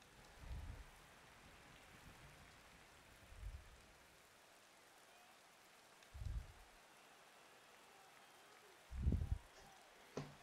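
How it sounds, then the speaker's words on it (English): Rain falls steadily on a race track in the MotoGP 20 game, a faint soft hiss broken by a few low muffled thumps. "The rain has been falling relentlessly for a few hours now"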